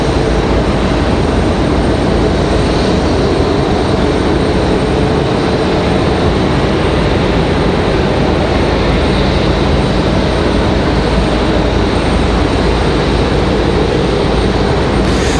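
An airliner arriving from Miami at Raleigh-Durham airport produces a loud, unbroken broadband engine roar that holds steady from start to finish, close and dominant with no talking.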